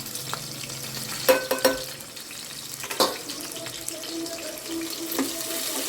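Onions, green chillies and spices frying in a pan for mutton curry, a soft continuous sizzle broken by a few clattering knocks and stirring sounds close by.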